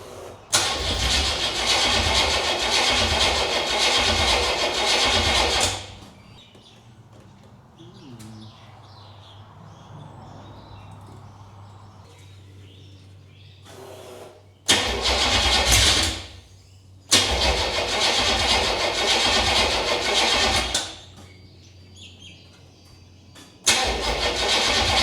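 A burnout project car's engine cranks repeatedly without firing, in four loud bursts of starter churning. A steady low hum and faint birdsong fill the pauses between attempts.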